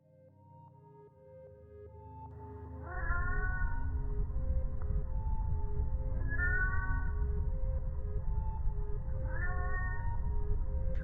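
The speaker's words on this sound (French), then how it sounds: "On entend un bruit de chat en arrière-plan, venant de je ne sais où." A cat meows three times at regular intervals, each a rising-falling cry, over a steady low hum that starts after a quiet opening.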